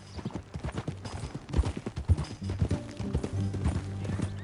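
Horse hooves clip-clop in Red Dead Redemption 2, a close, steady rhythmic series of hoof strikes with a faint low murmur beneath.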